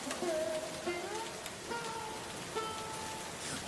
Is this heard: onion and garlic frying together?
no